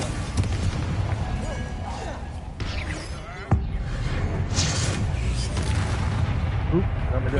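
Confringo fire spell exploding in Hogwarts Legacy, a sharp blast with a deep rumbling tail that rises over a constant busy layer of battle noise, spell effects and bursts.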